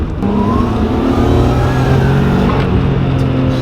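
A turbocharged Nissan Skyline GT-R engine revs up close with a rising turbo whine, a steady loud drone that climbs in pitch, with no talking.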